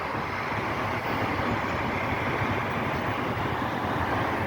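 A metro train rumbles past nearby, a steady, heavy low roar of wheels and motion that holds at an even loudness with no voices over it.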